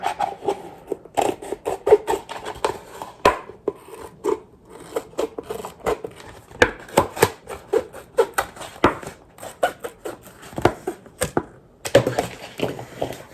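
Scissors snip through a plastic container to make garden plant labels, a rapid run of crisp close cuts with brief pauses between strokes.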